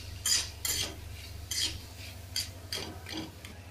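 A spoon scrapes and clinks against a pan while coriander leaves are stirred into a cooked potato mixture for aloo tikki, giving irregular metallic taps and scrapes close by, with no talking.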